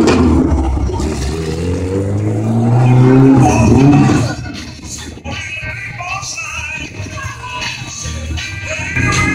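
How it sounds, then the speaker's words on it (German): A 1963 BMW 3200S classic with a 3.2-litre, 160 hp V8 at an oldtimer show in Saalbach, its engine rising in pitch as it approaches and passes, then fading into a rumbling crowd background. "Nummer 32, ein BMW 3200S von 1963 mit 3200 Kubik und 160 PS,"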